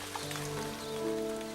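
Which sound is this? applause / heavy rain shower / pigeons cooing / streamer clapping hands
heavy rain shower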